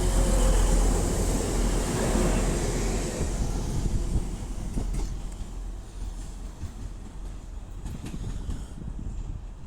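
A Class 185 diesel train rumbles past close by at Guide Bridge station, loud at first and then easing off, with wheel clatter and wind buffeting the microphone.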